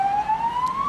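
An ambulance siren in Portugal wails in a steady, rising tone, continuous, loud and close, with faint road noise beneath it.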